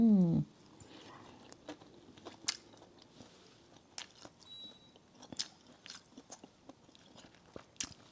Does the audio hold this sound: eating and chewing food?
yes